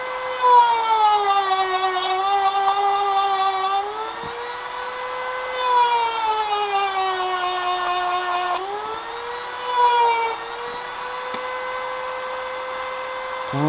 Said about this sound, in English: Grind it away.